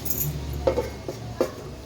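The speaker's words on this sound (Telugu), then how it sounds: "ఇలా మూత పెట్టి పెట్టుకోవాలి" Lid set onto a cooking pot of biryani: a few short metallic clinks and taps, two or three close knocks spaced about half a second apart over a quiet background hum, with no talking.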